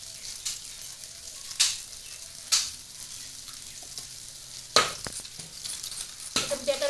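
Cumin, coriander, chilli and turmeric powders fry in a pan while being stirred, a soft low sizzle broken by several sharp scraping clatters of the spoon against the pan, close and alone.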